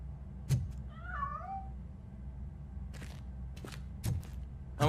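A cat meows once in the RoboCop: Rogue City video game, a short wavering call rising and falling over a low ambient hum, framed by a few sharp thuds and clicks.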